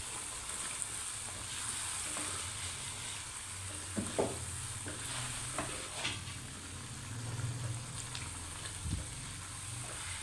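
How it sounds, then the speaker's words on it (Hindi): Sarson ka saag, the Punjabi mustard-greens dish, cooks in oil while being stirred, a low continuous sizzle with soft scraping and occasional spoon knocks, quiet and close, with no talking. "आप इसे अच्छे से मिक्स कर लेंगे, साग को पका लेंगे ऑयल में"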